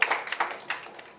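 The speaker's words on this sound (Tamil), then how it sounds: "ஒரு பலத்த கைத்தட்டல் கொடுத்துடலாம் நம்மளோட எடிட்டருக்காக." A short burst of audience clapping at a music video promo launch, scattered, moderately close hand claps lasting about a second.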